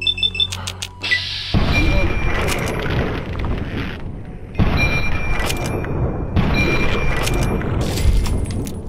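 Gunfire in the PC game Fallout 3 comes as repeated sharp, loud bursts with booming reports, separated by brief lulls.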